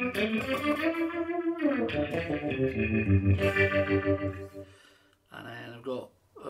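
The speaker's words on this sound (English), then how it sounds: "I've just added like a rotary onto that sound" Electric guitar chords through a Headrush pedalboard's Highland Rotor effect, warbling and swirling like a rotary speaker, ringing out then pausing briefly before another strum near the end.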